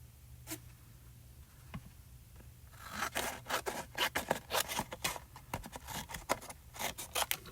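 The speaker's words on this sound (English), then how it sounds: "Let me cut a piece of this off." Scissors cut a piece off craft material while making mixed media gel plate art, starting with a few faint snips and then breaking into a dense run of close, scraping cuts.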